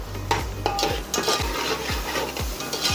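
Thick fish curry paste for Nellore-style fish pulusu frying and being stirred in a pan, with a steady sizzle broken by repeated scraping strokes of a spoon roughly every half second, close and fairly loud with no talking.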